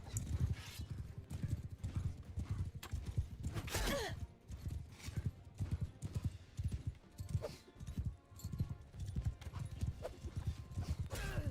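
Horse hooves clip-clopping in the medieval battle game Bannerlord, a steady rapid rhythm of galloping hoofbeats with occasional whinnies and breathy snorts over battle noise.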